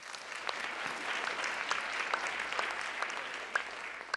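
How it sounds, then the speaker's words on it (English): A crowd claps steadily and densely throughout, a sustained round of applause heard from within the room at the White House Correspondents' Association dinner. "Give him a round of applause."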